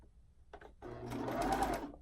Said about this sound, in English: I'll turn my serger on, and I'm gonna apply elastic as I just sew down this strip